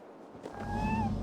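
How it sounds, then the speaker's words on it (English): A single drawn-out meow from a cat in the video game Assassin's Creed Valhalla, found perched near a statue, rising and then fading over about a second, fairly close and soft. "Who put you up here, little cat?"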